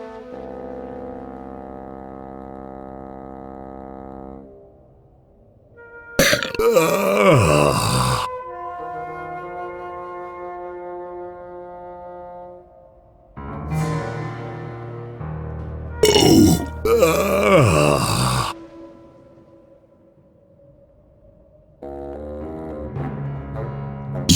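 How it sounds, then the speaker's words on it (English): A video game character in The Whispered World burps out the alphabet in long, deep, drawn-out belches, with a few sharp noisy bursts mixed in between the sustained tonal burps. "I can burp the alphabet."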